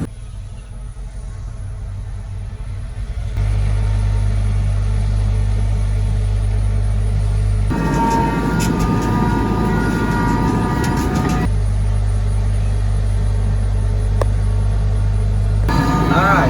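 A tractor tilling wet buckwheat into a Southern Illinois food plot rumbles loud and steady with a deep engine drone, a harsher grinding stretch from the tiller midway, and faint talk underneath.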